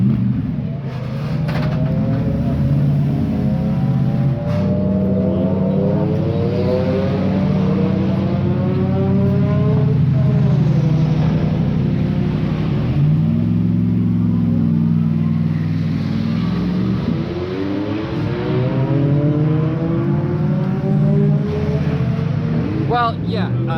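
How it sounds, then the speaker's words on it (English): A loud GT3 race car engine revs hard and climbs through repeated gear changes, its pitch rising and dropping as it pulls away. "Oh, the GT3 is going out."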